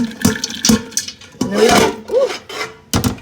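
Rinsed beans poured into a cooking pot that was rinsed clean of grease, giving a few wet, rustling tumbling bursts with short scraping knocks, close and fairly loud, with no talking.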